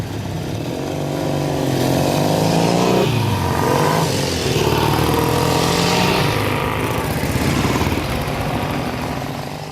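A newly built Triton classic motorcycle passes at a 1960s-themed club ride, its engine rising to a loud, steady rumble near the middle and holding strong before easing slightly as it goes by.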